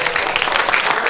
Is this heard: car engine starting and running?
no